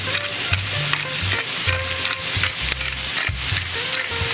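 Vegetables seasoned with salt and fresh cracked pepper cook in a hot pan, giving a steady loud sizzle with scraping stir and toss sounds throughout, no voices.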